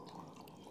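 About two cups of water pour into a pan of kofta curry gravy as a steady, splashy rush of liquid, close and fairly soft, with no speech.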